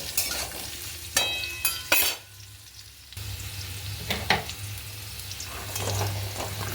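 Ridge gourd tipped into a pan of frying potatoes, with a sizzle and the scrape of stirring in short bursts, then a steady hiss of frying that goes on alone without talk.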